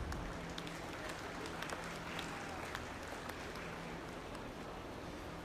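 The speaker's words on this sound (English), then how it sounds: "If you would give our exhibitors a round of applause." A crowd at a Holstein livestock show gives the exhibitors faint, distant applause: steady scattered clapping that stays low and even.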